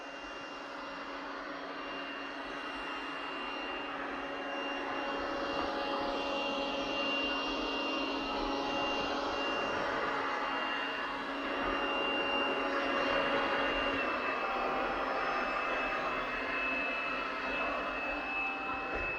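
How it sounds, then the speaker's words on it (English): A Lubluelu SL60 robot vacuum moves out across the room on its mopping run, a steady whirring motor drone that swells slightly midway and stays constant, close and fairly loud, with no speech. "then it will move out and start our mopping sequence"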